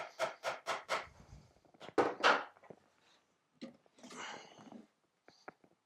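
Five sharp hammer blows drive a nail into a wooden beehive floor in quick succession, followed by a few more strikes and some quieter knocking and handling noises.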